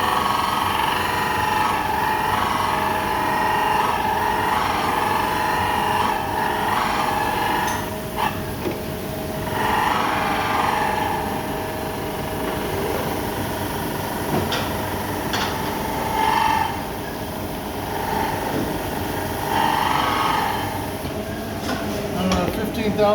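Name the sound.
grinding a billet camshaft for a Honda D16Y8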